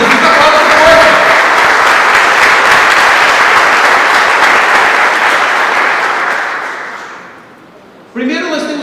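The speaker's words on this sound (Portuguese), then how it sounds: "Aplauda" A church congregation applauding during a sermon, loud sustained clapping from many people that gradually fades to near silence, followed by a voice speaking.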